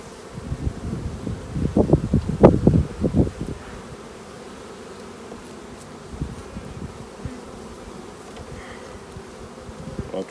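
Honey bees buzz around an open hive during a brood inspection, a dense close swarm drone that swells loudly in the first few seconds, then settles into a quieter steady hum with light rustling.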